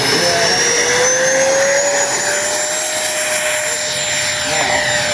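An E-flite Habu XS 80mm electric ducted-fan RC jet spools up for takeoff with a loud, steady high-pitched whine that rises slightly in pitch, close by and continuous.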